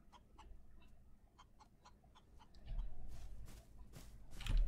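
A chicken in the Wild West survival game Outlaws of the Old West clucks in a quick series of short, clipped calls, followed by louder rustling and low farmyard noise.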